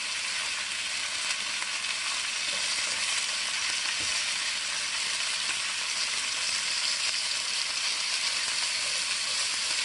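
Roast beef sears with onion in a hot pan, giving a steady, dense frying sizzle that holds evenly throughout without any talking.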